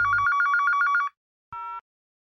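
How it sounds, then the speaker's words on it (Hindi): A home telephone's electronic ringtone trills in one fast pulsing burst, then a short click-like tone follows after a gap of silence. "फोन आ रहे"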